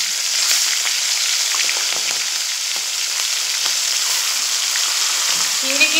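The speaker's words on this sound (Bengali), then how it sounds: "এবার যে চিংড়ি মাছ আমি লবণ আর হলুদ মাখিয়ে রেখেছি সেই চিংড়িগুলো ভেজে নেব" Shrimp marinated in salt and turmeric fry in hot oil, giving a continuous bright sizzle with crackling pops and occasional stirring.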